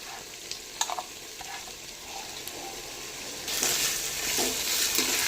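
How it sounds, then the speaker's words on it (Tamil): Crushed garlic, pounded on a grinding stone, sizzling and being stirred in a hot pan while cooking a village-style mutton curry; scattered scraping stirs over steady frying, which grows louder and fuller partway through, with no talk. "இப்போ இது கூடவே அம்மியில் இடித்து வச்சிருக்கிற பூண்டை ஆட் பண்ணி நல்லா கிளறி விட்டுக்கலாம்."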